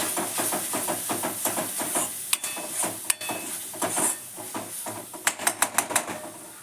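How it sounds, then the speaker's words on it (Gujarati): Water poured into frying masala for a prawn dish sizzles and hisses steadily in the pan, with a run of sharp crackles and spattering pops standing out toward the end. "આની અંદર ફ્રેન્ડ્સ આપણે 2 ચમચી પાણી એડ કરીશું એટલે મસાલા બળી ન જાય"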